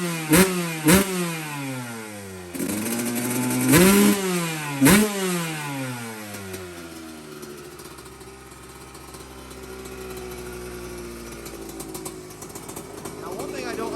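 A rebuilt Kawasaki KX125 two-stroke dirt bike engine revs sharply in several quick blips, then settles to a steady, buzzing idle close by, with a voice speaking briefly over it.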